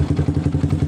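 A Yamaha R15 motorcycle's electric starter cranking the engine, heard close and loud as a quick rhythmic churning lasting under a second.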